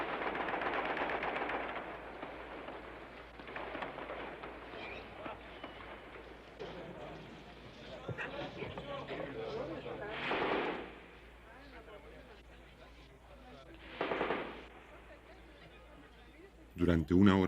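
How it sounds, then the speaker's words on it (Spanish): Tanks exchange gunfire with carabineros inside the Palacio de la Moneda in Chile: distant bursts and rattling shots come in several separate volleys, quiet under a narrating voice. "los tanques intercambian disparos con los carabineros que se encuentran en el interior del Palacio de la Moneda"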